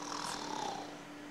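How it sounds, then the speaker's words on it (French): A single drawn-out snore from an actor on a theatre stage during a vaudeville comedy, one breathy rasping inhale of moderate loudness that fades out after about a second. "On a ronflé dans mon alcôve !"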